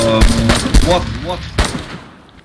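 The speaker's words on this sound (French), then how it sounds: "avec les coups de feu, j'entendais plus rien" Gunfire in the DayZ survival game: several loud, sharp shots in quick bursts with a rolling echo, while a voice talks faintly underneath.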